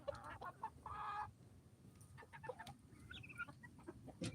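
Chickens cluck softly and intermittently while pecking at turkey meat in their farm enclosure, brief scattered calls and a short louder squawk over a faint background hum.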